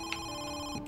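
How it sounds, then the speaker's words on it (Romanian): Telephone ringing inside a house in the horror video game Home Sweet Home 2, a steady electronic ring tone with a few faint clicks, fairly quiet and without speech. "Sună telefoanele."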